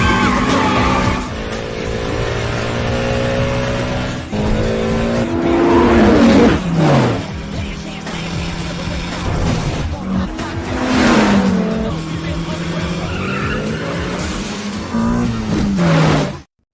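Mazda RX-7 and Mitsubishi cars race in a film street race, engines loudly revving with rising and falling pitch as they accelerate, with tire squeals and passing sweeps over a continuous backdrop.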